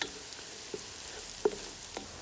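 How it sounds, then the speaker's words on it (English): Turmeric and coriander powder frying in a pan for a lamb and spinach curry, cooked outdoors in a garden, with a low continuous sizzle and a few soft scraping stirs, close and steady. "1 teaspoon of the turmeric powder, teaspoon of the coriander powder, 2. Then I'm going to stir."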